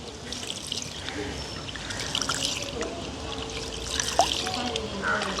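Water trickles and splashes as parboiled rice is washed by hand in a village kitchen, the sound fairly close with a few small spills and clicks.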